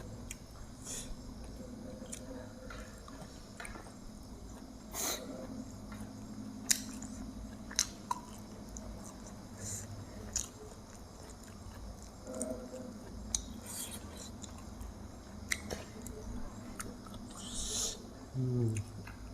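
Rice eaten with jaew dipping sauce made with dried fish: soft, wet chewing and squishing sounds up close, quiet and irregular, with occasional small smacks and sniffs.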